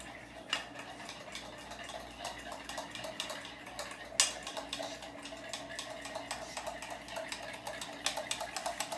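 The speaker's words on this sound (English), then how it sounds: "Stir it up a little bit more." Spoon stirring teriyaki sauce in a pot, a busy run of quiet clinks and scrapes against the metal with a sharper knock partway through, soft room noise throughout.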